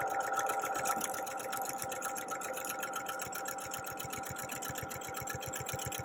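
A sewing machine stitches a quilt block, its rapid needle chatter running continuously and close, steady at first and then settling into a distinct rhythmic pulse.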